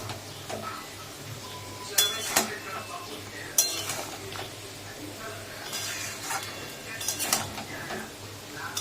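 Drumstick (sajna) pieces stirred in a cooking pot, scattered clinks and scrapes of a utensil against metal over a low background hum, a few louder knocks standing out, close and moderately loud.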